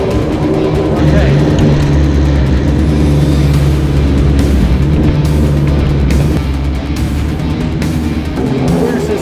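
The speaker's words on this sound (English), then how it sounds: "Both motors running." Two motors run together at a steady, loud drone with strong low harmonics, holding close and continuous throughout while brief voices talk over them.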